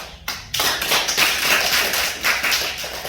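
A group claps in a lecture hall, the clapping starting after a brief pause and running as a dense, loud burst of applause-like patter for a few seconds.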